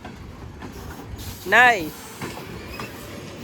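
Norfolk Southern freight train of steel gondola cars, some loaded with steel coils, rolling past with a steady low rumble and a brief loud wheel squeal in the middle; a voice speaks briefly.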